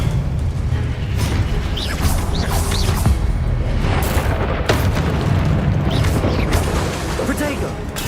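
Blasting spell explosions go off in a Hogwarts Legacy fantasy combat game, with booms and crashes repeating over a constant loud wash of battle noise while a player shouts spell names throughout.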